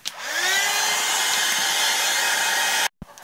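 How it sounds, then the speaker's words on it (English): A hair dryer blows loudly and steadily up close while drying gesso on a mixed media card, its whine rising as it spins up, then it cuts off abruptly near the end with a brief click. "I'm gonna dry my gesso a little bit"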